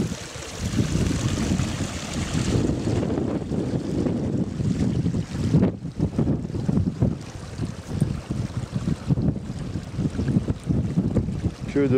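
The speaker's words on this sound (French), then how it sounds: "Parce que le vent est assez fort et pas chaud du tout." Strong wind on a mountain hiking trail near the Puy de Sancy buffets the microphone, making loud, continuous rumbling gusts that rise and fall in bursts.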